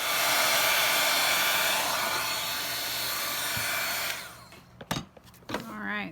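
A heat tool blows loudly and steadily while melting WOW embossing powder, its whirring hiss running for about four seconds before cutting off, followed by a few small handling knocks and a brief voice.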